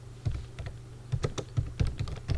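Keys clatter on a computer keyboard as C code is typed, a close burst of irregular clicks and taps with short pauses between strokes.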